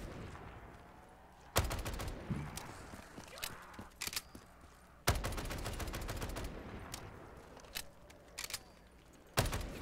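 EBR rifle fire in a custom zombies video game map: sharp bursts of rapid shots in several clusters, loud and close, with quieter clattering and movement between volleys.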